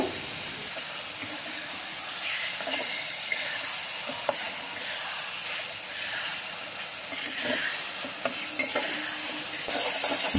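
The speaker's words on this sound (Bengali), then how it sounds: "এখন দিয়ে দিচ্ছি টমেটো কুচি, আর টমেটোগুলো দিয়ে কিন্তু ভালোভাবে কষিয়ে নেব।" Chopped tomatoes fry in oily spice paste and are stirred, giving a dense, continuous sizzle with steamy hiss and occasional spatula scrapes, close and loud.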